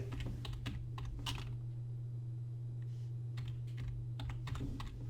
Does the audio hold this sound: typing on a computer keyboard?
yes